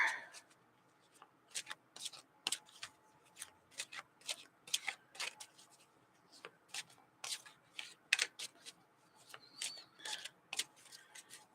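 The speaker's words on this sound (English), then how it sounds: "I've shuffled pretty much the whole time I was talking, so they're good and shuffled" A deck of playing cards is shuffled by hand in bursts of sharp riffling flutters, separated by brief quiet gaps, close and fairly crisp, with no voices heard.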